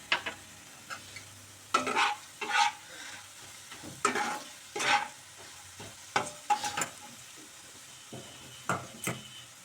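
Chopped onions with Kashmiri chili powder stirred in a hot pan, repeated scraping spatula strokes in irregular bursts over a low, soft sizzle.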